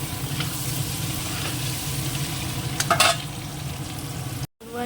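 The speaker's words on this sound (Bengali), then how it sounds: "একটু লাল লাল করে ভেজে নেব" Eggs fry in a pan with a continuous close sizzle and a brief clatter of a utensil near the end before a short cut.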